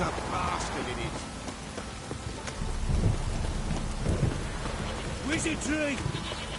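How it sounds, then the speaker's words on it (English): A PS4 game thunderstorm: constant heavy rain roar with thunder swelling in the middle, plus brief voice-like or effect sounds scattered over the top. "This downpour's a bastard"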